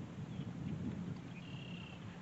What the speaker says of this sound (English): Thunder is rumbling.